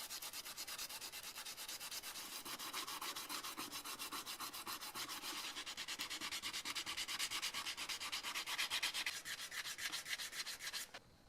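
Continuous sanding of old paint off the handle of a 60-year-old French food mincer: a steady, close, rapid back-and-forth scratching that holds for about eleven seconds before stopping abruptly.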